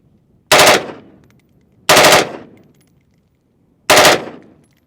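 A PSA Sabre 18 rifle fires on full auto in three short, sharp bursts spaced about a second and a half apart, loud and close, with silence between them.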